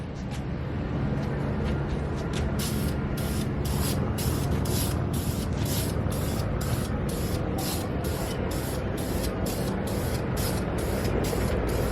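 Steady hiss of wrinkle red spray paint from an aerosol can applying a second coat to a valve cover, continuous and close, broken by rapid rhythmic pulses as the nozzle sweeps back and forth.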